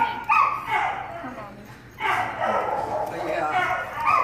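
A young puppy whimpers and gives high yips in two close bursts, with people talking over and between the sounds.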